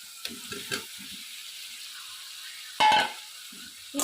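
Fried eggs and potato tossed into a pan of spice masala: soft scraping stirs, then a sudden short burst of sizzling, followed by more light stirring under a faint steady hiss.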